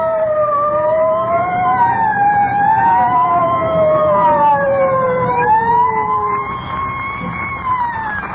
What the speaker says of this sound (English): I don't like the sound of them sirens.